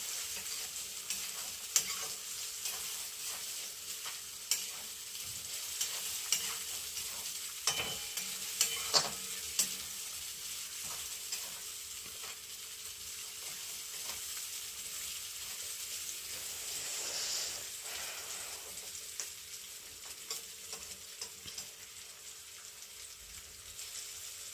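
Green peas fry in a pan as they are stirred, a faint steady sizzle punctuated by light scraping knocks, louder and busier in the first half.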